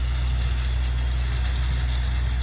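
A brand new Bobcat tractor's engine idles steadily while it rototills a yard for a riding arena. The low, continuous rumble stays close and even throughout, with no talking.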